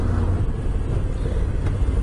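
A 2013 Moto Guzzi V7 Special motorcycle rolls along at very low speed, its engine giving a steady, low rumbling drone with road noise and no clear throttle changes throughout.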